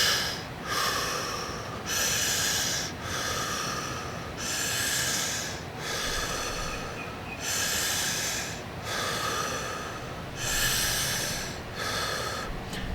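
Slow, deep breathing with equal inhales and exhales, about three seconds each, close and loud, repeating in a steady, even rhythm of airy rushes through the nose.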